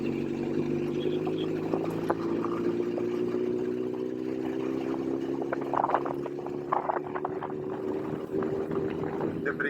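A motorcycle engine runs steadily close by, its pitch rising and dropping slightly as gears are shifted, with brief mechanical clicks and a voice talking faintly underneath.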